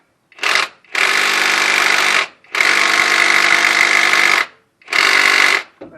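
A pneumatic or electric impact tool working to loosen a bolt on a Mitsubishi L200 Triton, firing in four loud, close bursts of rapid hammering with short silent gaps between them.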